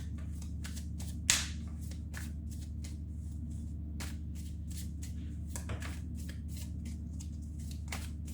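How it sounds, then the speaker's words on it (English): Universal-Waite tarot cards handled and drawn, giving soft repeated shuffling and sliding card rustles in quick bursts, one sharper snap near the start, over a steady low background hum with no talk. "I'm going to be taking the Universal-Waite Tarot. And we're going to take out 4 cards again."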